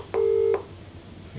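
A single steady dialing tone from a v-connect video consultation call, one clean beep lasting under half a second in a quiet room.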